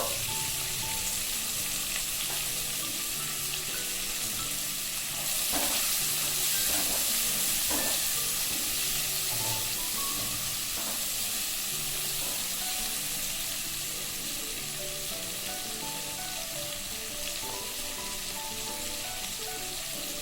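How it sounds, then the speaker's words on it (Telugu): Slit green chillies frying in oil in a pan over a medium flame, a steady close sizzle and hiss throughout with occasional soft stirring clicks and light spatters, no voices. "ఇవి దోరగా వేగనిద్దాము."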